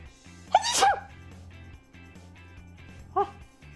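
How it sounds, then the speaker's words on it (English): A sharp human sneeze bursts out once, followed a few seconds later by a shorter second sneeze, over a steady low musical background. "It was so cold it made me sneeze."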